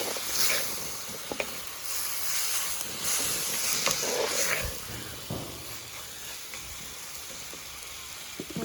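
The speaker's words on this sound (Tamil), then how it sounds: "தக்காளி பழம் லைட்டாக வதங்குது." Tomatoes sautéing in a pan with turmeric for crab curry, giving a soft, steady hiss of sizzling oil with faint crackles and a few light clinks, no talking.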